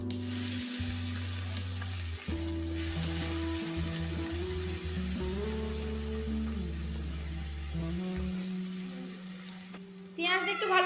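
Four chopped onions fry in hot oil in a pan, a loud, steady sizzle that runs throughout, with a brief clatter near the end.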